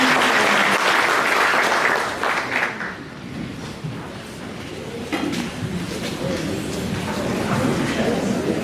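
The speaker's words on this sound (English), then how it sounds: "Please give yourself a loud applause." A stakeholders' meeting audience claps loudly for about three seconds. The applause then thins into scattered clapping and murmuring, and a second, softer swell of clapping builds toward the end.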